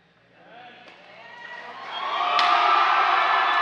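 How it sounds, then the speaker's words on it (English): Crowd at a high school hockey game between the Stoughton Vikings and Edgewood, cheering that swells from a murmur to a loud, sustained roar, with one sharp bang partway through and faint voices underneath. "we'll let the crowd take us out"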